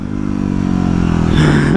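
A Yamaha WR250R dual-sport motorcycle churns through deep mud on a trail, its engine droning loud and close with a rising rev and splashing clatter toward the end.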